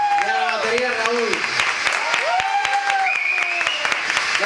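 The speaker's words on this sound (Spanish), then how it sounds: "Un aplauso para él, por favor." An audience applauds at a live band concert in an Irish tavern, a dense, steady wash of clapping while someone speaks over it through a microphone.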